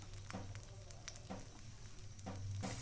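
An egg omelette fries in a pan with a soft, continuous sizzle. Brief bursts of crackle or scraping recur every second or so, all at low volume.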